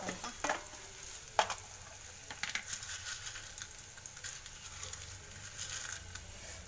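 Onion frying in a pan for a South Indian dish, a soft continuous sizzle broken by sharp scraping and clicking stirring strokes, close but fairly quiet.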